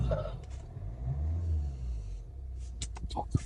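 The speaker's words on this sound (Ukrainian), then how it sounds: "Жодних помилок немає, двигун працює рівненько." A faint, steady low engine rumble from a 2013 Hyundai Santa Fe 2.2 diesel AWD with 174,000 km idles evenly, with a few light clicks near the end.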